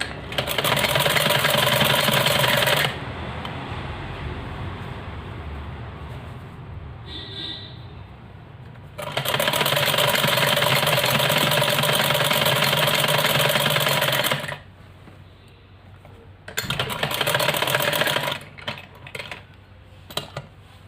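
A sewing machine stitches lining onto a ladies' kameez in loud steady runs, stopping and restarting several times with quieter gaps of handling between bursts.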